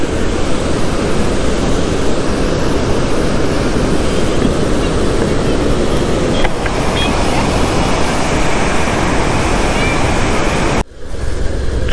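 Boat ride on the Khadakwasla dam backwaters near Pune in monsoon, with a loud continuous rush of water and wind buffeting the microphone, a steady roar that cuts out abruptly near the end.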